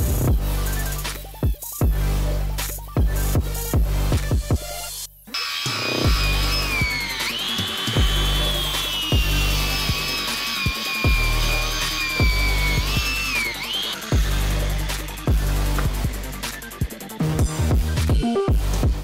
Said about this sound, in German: Ich kann jetzt schleifen, ja?